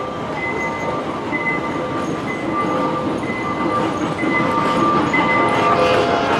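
A train rumbles steadily with a continuous mechanical roar and faint high tonal whines, growing slightly louder toward the end.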